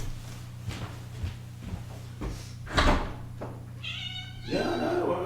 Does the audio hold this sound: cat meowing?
yes